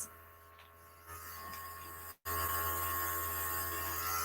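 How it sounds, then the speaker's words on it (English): An airbrush system sprays foundation makeup, a steady close hiss with a faint compressor hum underneath, briefly cutting out mid-way before resuming slightly louder, with no talking. "with our airbrush system"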